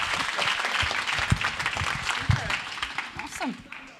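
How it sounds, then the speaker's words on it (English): Audience applause for a panel at a corporate panel discussion, a steady clapping wash with voices talking and calling out over it, fading toward the end. "I want to have a quick round of applause for this amazing panel"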